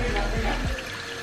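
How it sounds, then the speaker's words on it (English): Water poured from a small amount into a pot of Angolan moamba stew with palm oil, a short wet splash and trickle lasting about a second, close and moderately loud. "I'm gonna put a little bit of water."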